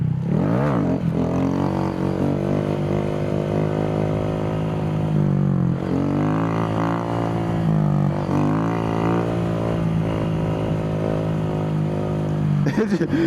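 A motorcycle engine drones close and loud, pitch sliding up and down as it runs through the gears during a wheelie, with a rider's voice partly over it.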